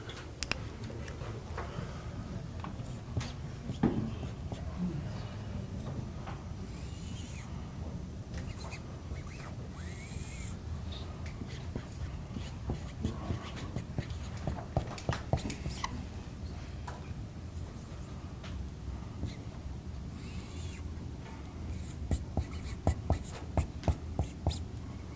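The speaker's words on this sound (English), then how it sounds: "going to start writing the solution up here." Pen or marker scratching across paper or a board while working out an inverse trigonometric function problem, a steady run of soft scrapes and ticks with a faint background hum and no talking.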